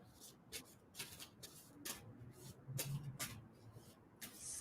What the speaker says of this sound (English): And tell me to stop shuffling on that.